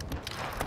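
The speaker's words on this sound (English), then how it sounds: "reloading" A weapon being reloaded in a first-person shooter, a brief run of clicking, ratcheting mechanical clacks over quiet game ambience, with no voices.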